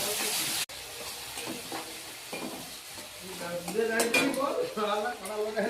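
Mustard and poppy seed paste hits hot oil in a pan already holding turmeric and slit green chillies, giving a steady sizzle with stirring scrapes and light utensil clinks, close and continuous.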